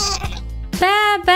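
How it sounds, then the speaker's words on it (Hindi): A goat bleats twice in quick succession, loud and close, in a short children's story scene; the second call is longer and wavering. "बकरी"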